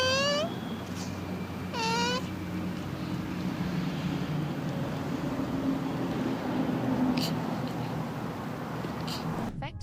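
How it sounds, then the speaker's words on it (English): Mating turtles give a few brief squeaky, whining calls near the start, faint over a steady windy outdoor rumble. "Did you know that turtles make a funny sound when they are mating?"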